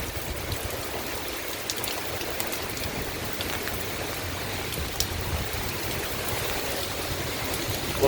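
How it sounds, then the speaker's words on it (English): Heavy thunderstorm rain pours down on a street in Virginia Beach, Virginia, a constant dense hiss and splatter with occasional sharper drops, close and unbroken, with no talking. "the sheets of rain just pouring down"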